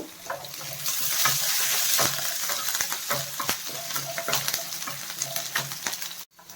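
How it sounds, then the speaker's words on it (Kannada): Finely chopped garlic and spices fry in a pan with a dense, steady sizzle up close, overlaid by frequent stirring scrapes, ending in a sudden brief stop. "ಅದನ್ನು ಹಾಕ್ಕೊತಾ ಇದ್ದೀನಿ ಈಗ ಇದೆಲ್ಲ ಸ್ವಲ್ಪ ಫ್ರೈ ಆಗಬೇಕು"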